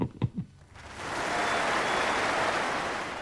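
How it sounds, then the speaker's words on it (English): Sustained cheering and applause from a large opera audience after a final performance. It swells into a steady, broad roar after a few brief knocks at the start. "The cheers and applause resounded for more than 11 minutes."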